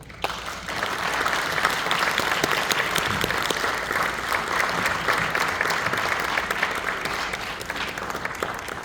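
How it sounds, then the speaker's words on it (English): Sustained applause from an audience at the close of a Senate candidate forum, steady and full throughout with no talk over it. "now is the time to show them your applause."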